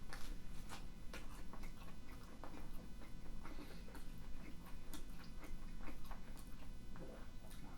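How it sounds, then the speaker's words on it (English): Close, faint crunching bites into a crispy Jet's Detroit style Triple Roni pizza, a series of sharp irregular crunches spread over several seconds with no talking. "That crunch is amazing. It's like every bite is crunchy."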